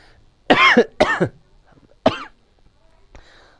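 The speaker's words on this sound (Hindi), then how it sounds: "अभी भी थोड़ी सी खांसी आ रही है" A few sharp, close coughs in quick succession, followed by a softer throat-clearing sound and some faint breathy noise.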